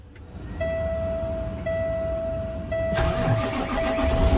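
A truck engine starting: a whirring starter with a steady whine, then the engine catches into a louder rough idle, close by.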